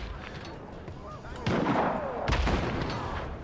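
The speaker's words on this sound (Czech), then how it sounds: "Něco tu střílí, ale kde to je?" Gunfire in Just Cause 3: two sharp, loud bursts of shots over a steady background rumble, the second blast heavier and trailing off.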